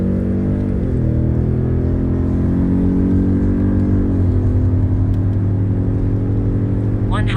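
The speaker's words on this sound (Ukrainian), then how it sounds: "Дивіться зараз відео порівняння динаміки розгону. Починаємо на бензині." A Ford Raptor F150 pickup accelerates hard on petrol, a loud continuous engine drone whose pitch climbs steadily through gear changes, heard from inside the vehicle.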